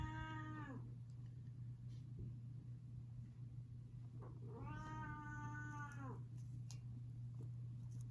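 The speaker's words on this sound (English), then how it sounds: "I also have a seriously unhappy cat" A distressed, unhappy house cat meows twice, each a long drawn-out wail, over a steady low electrical hum in a quiet indoor room.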